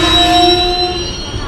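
The Jamnagar Tirunelveli Express at Sangameshwar Road station gives off a loud, sustained metallic squeal of braking wheels, with steady rumbling underneath that eases off slightly toward the end.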